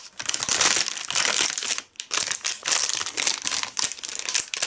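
A plastic tea packet of milk oolong is crinkled and handled up close, a loud, continuous crackling with brief pauses and no talking.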